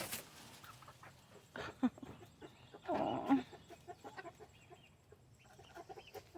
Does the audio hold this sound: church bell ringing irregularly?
no